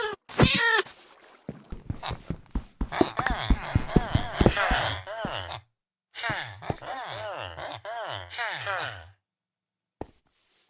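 A Minecraft cat being attacked lets out a rapid string of loud, close meows and pained cries, broken by short pauses and ending with a few isolated sounds.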